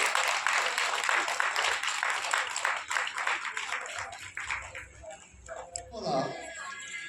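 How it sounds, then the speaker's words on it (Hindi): An audience at a book launch for the Bhojpuri song collection 'Anjuri Bhari Geet' claps in a dense patter of applause for several seconds, then it thins out and a voice speaks. "ताली से स्वागत किया जाए किताब के"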